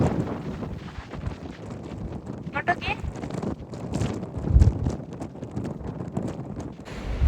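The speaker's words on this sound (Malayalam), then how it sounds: "ഇത്രയും ശക്തിയിൽ കാറ്റ് വീശുന്ന മറ്റൊരു സ്ഥലത്തും എനിക്ക് ഇതുവരെ പോകാൻ കഴിഞ്ഞിട്ടില്ല" Strong gusty coastal wind on ocean cliffs near Melbourne buffets the microphone with rumbling, uneven roars that rise and fall throughout.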